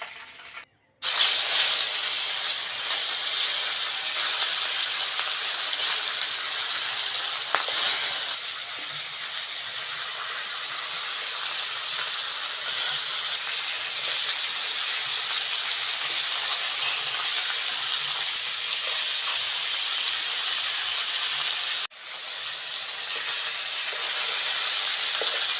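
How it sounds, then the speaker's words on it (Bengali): Bhetki fish bones deep-frying in hot oil give a continuous loud, even hiss with a brief drop near the start and another short break late on, no talking. "মাছের কাঁটাগুলো ভাজা হয়ে গেছে, তুলে নেব।"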